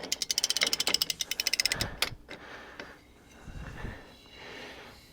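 A hand wrench clicks in rapid ratcheting bursts while backing off the brake slack adjuster on a Kenworth cabover truck by a full turn, followed by a sharp clank and quieter creaking handling of the tool.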